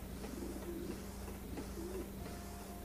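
Pigeons or doves coo in the Fragile Dreams video game, two soft rounded calls spaced apart over a faint steady background hum, with no talking.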